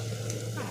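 Food frying in a pan while a home-cooked meal is made, a steady low sizzle and bubbling heard close up, continuous and quiet, with no voices.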